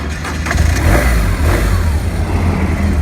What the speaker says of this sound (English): Has the 1170cc fuel-injected boxer twin engine, 6-speed transmission.